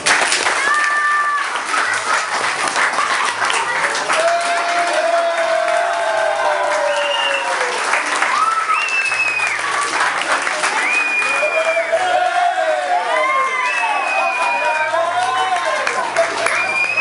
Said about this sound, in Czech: Poprosím vás o potlesk.